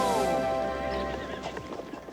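A cartoon horse gives a loud, clear whinny, its call falling in pitch over the first second, followed by clip-clopping hooves and a little speech in the background.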